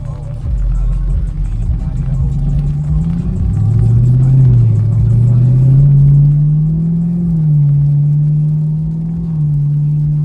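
A 500 hp Chevrolet Camaro SS engine running after start-up, a loud steady low rumble that rises in pitch and settles into a smooth idle, close and alone.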